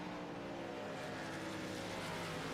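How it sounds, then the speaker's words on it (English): Race car engines in an oval racing video game, heard as a loud, continuous, steady droning roar of several cars that carries on through the whole stretch without a clear cut-out. "You can audibly hear the engines cut out in the top 2 right now."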